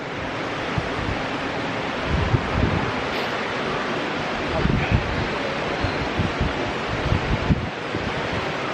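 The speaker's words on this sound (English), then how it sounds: "can you hear that? It's a nice waterfall." A waterfall along a trail gives a steady, broad rush of water, loud and continuous, with some wind buffeting the microphone.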